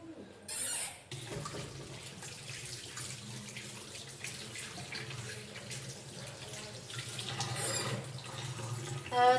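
Hands washed with soap under running tap water in a lab setting: steady close splashing flow from the faucet throughout, with brief louder bursts near the start and end and no talk.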